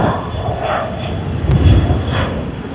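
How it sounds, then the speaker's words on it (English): A Boeing 737 jet bound for Fiji roars at Sydney Airport, a steady, loud engine rumble with a brief sharp noise midway. "Boeing 737 to Fiji. FJ 914."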